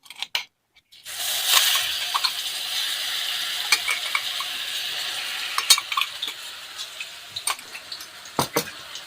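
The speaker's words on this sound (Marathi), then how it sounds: "मसाला छान तेलामध्ये फ्राय घ्यायचं" Ground masala hits hot oil in a kadai and fries with a loud, steady sizzle, punctuated by metal spoon taps and scrapes against the pan, no voices.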